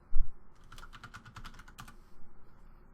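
Quick typing on a computer keyboard to name a new folder, a short close burst of rapid light key clicks ending in a couple of separate taps.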